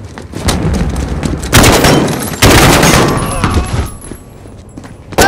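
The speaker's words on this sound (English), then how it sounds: "Point and shoot until they fall." Loud bursts of gunfire and booming impacts in a Call of Duty Modern Warfare campaign ambush on guards, coming in heavy clusters with a brief lull between them.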